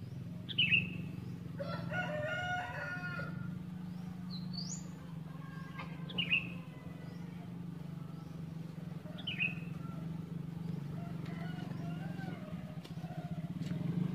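Rooster crowing repeatedly in a peaceful Indonesian village morning after a night of wind, rain and flooding, with several short crows spaced through a steady low hum and scattered bird chirps and tweets in the background.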